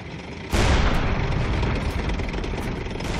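A tank cannon firing in the Panzer Knights video game: one sudden loud boom lands early and then rolls into a sustained rumbling roar that stays heavy through the rest of the moment, with no talk over it.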